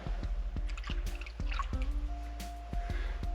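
Water seeping and dripping from a spring in a desert cave at old cliff ruins: irregular, close drops fall one after another with a faint ringing resonance, and no voices are heard.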